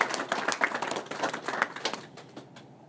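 Campaign volunteers clapping at a political event for a Member of Parliament, a moderately close round of hand claps with distinct individual slaps that thins out and fades toward the end.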